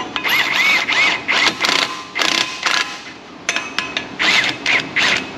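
Bolts are tightened on a Ford F250/F350 truck brake rotor with a ratcheting tool, heard as close, repeated bursts of clicking ratchet strokes separated by short pauses.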